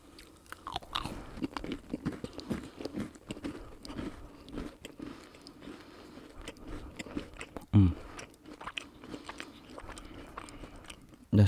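Someone bites into and chews a stroopwafel up close, with soft crunches and wet chewing at an uneven rhythm and a sharper bite near the end.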